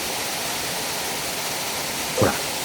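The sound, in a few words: waterfall pouring into a plunge pool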